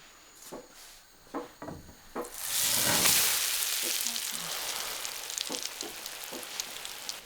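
A loud burst of sizzling as potato pancake batter hits a hot pan, settling into steady frying crackle, with a few soft knocks beforehand.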